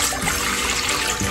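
Water pours into a pot as chana dal is set to boil, a steady, loud, close rush of liquid with no pause.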